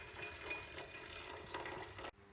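One cup of water pours steadily into a medium-sized pot for about two seconds, a soft splashing gush that stops abruptly near the end.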